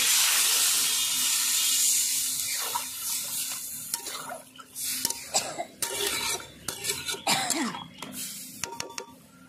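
Warm water poured into a curry of mete alu yam frying in a pan, starting as a strong hiss and splash that fades into bubbling, sizzling and spoon clatter, with a couple of coughs.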